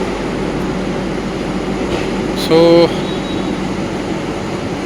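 A train at a large railway station gives a steady broadband rumble throughout, with a brief, loud tonal horn-like blast near the middle, while someone talks over it.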